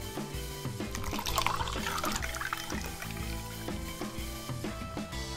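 Sapporo Beer Garden summer pilsner pouring into a beer mug, a steady gurgling and splashing stream of liquid lasting several seconds, close and fairly loud, with no talk over it.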